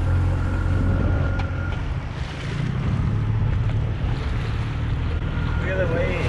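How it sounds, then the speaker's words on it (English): Standing waves churn in a hard outgoing tide near a deserted Bahamian out island, heard from a small boat with continuous splashing water and strong wind buffeting the microphone. "These standing waves."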